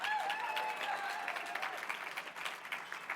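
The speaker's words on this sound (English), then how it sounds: "Give them a round of applause." Applause from a conference audience at a summit plenary session, a soft, fairly distant wash of many hands that fades gradually over a few seconds.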